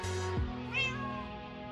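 A domestic cat meows once clearly and close by, a drawn-out, plaintive cry with a falling pitch, heard alone with no talking.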